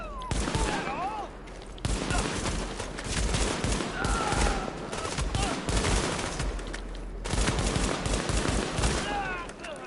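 Sustained bursts of heavy automatic gunfire and scattered shots from a firefight in The Division, loud and dense with brief lulls between volleys, with distant shouted voices mixed in.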